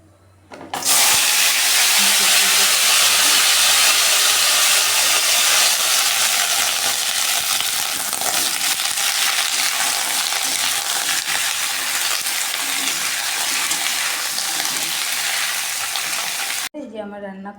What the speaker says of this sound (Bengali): কড়াইতে তেল দিয়ে দিচ্ছি আর হচ্ছে জিরা ফোড়ন দিয়ে দিচ্ছি